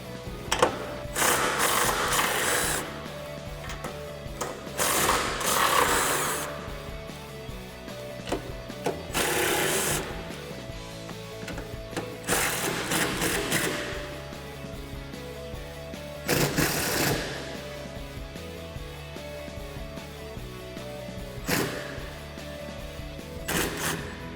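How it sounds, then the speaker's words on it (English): Electric 3/8-inch impact gun with a 13mm socket removing four strut bolts on a 2011-2014 Mustang during a lowering spring install, heard as repeated loud bursts of buzzing hammering, each a second or two long, separated by quieter shop ambience. "I'm going to take my 13mm on my 3/8 electric impact gun, remove these 4"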